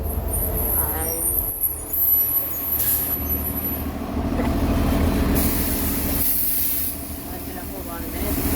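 A loud city bus pulls up close by, its deep diesel rumble steady throughout, with air-brake hisses and higher mechanical whines breaking in toward the end; a person talks over the noise.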